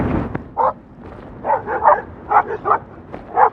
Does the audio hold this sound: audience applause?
no